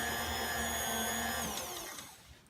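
An electric mixer whirs steadily through carrot cake batter with a high motor whine, then slows and winds down toward the end.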